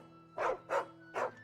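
A dog barking in the video game Final Fantasy XVI, three distinct close barks in an even rhythm over a quiet background hum of game ambience.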